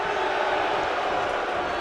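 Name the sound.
home crowd cheering at Toronto wrestling show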